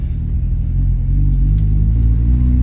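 A parked Acura RSX Type S (DC5) idles with a steady, deep engine rumble, close and loud, holding a fairly even tone with only slight rises in revs.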